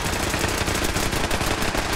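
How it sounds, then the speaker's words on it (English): Rapid automatic gunfire from the video game Fallout 4: Far Harbor fills the scene as a dense, continuous rattle of shots, loud and close throughout with no pauses. "What are we shooting at?"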